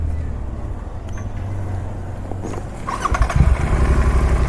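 A motorcycle engine revs up at a farm house outing, the roar growing louder and rougher in the final seconds after a steadier idle, close to the listener with no talking.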